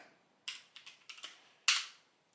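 A handful of sharp keystrokes on a computer keyboard while a command is entered at a terminal, irregular crisp clicks with one louder final tap, close and alone in silence.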